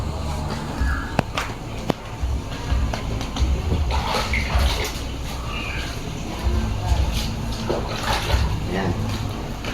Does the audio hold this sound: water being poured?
yes